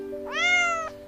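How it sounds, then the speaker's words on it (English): One cat gives a single clear meow of moderate length, close and alone over a faint steady hum, with no talking. "Cat."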